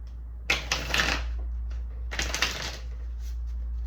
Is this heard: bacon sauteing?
no